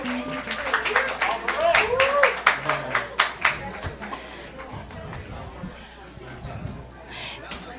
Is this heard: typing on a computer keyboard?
no